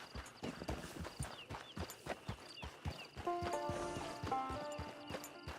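Hooves clip-clop in a steady walking rhythm from a horse in Red Dead Redemption 2's online camp, close and clear, with a brief whinny and jingling tack partway through.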